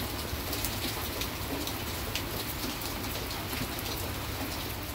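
Steady heavy rain pouring continuously, a dense hiss of drops with occasional sharper patters, no voices.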